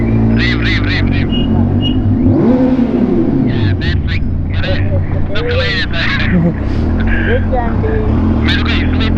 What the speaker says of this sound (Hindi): रेव करो, रेव करो,